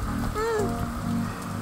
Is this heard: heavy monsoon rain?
yes